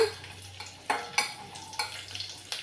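Garlic frying in hot oil with black gram, mustard and cumin seeds, a steady soft sizzle with a few sharp clinks of a spoon against the pan, close by with no voices.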